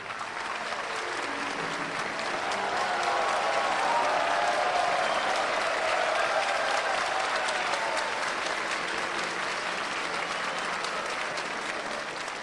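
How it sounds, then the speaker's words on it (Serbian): Studio audience at a Belgrade television production breaking into loud sustained applause that swells quickly and holds steady as a dense wash of clapping, with a faint voice briefly over it near the start. "Pozdravimo jednim velikim aplauzom Selmu!"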